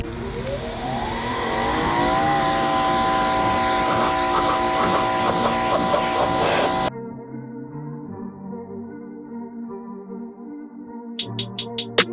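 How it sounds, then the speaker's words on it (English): A brand-new electric 2300 PSI pressure washer motor spins up with a rising whine, then runs at a steady loud drone with a hissing spray. It cuts off abruptly and leaves a quieter hum, then a few short bursts follow. "Picked up a brand new 2300 PSI pressure washer. Got a electric one this time"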